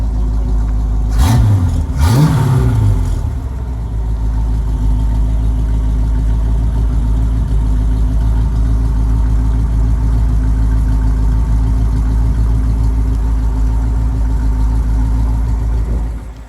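A 1967 Pontiac Firebird 400 convertible with Flowmaster exhaust blips its throttle twice in quick succession near the start, then settles into a steady, loud, rumbling idle that holds close by for the rest of the stretch.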